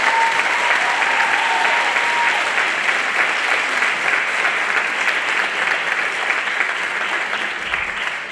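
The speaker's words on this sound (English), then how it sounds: "So please give them a round of applause for being awesome." Sustained applause fills a school auditorium after a spring middle school band concert, a dense, steady wash of clapping from a large audience that carries on loudly for the whole stretch and eases off slightly at the end.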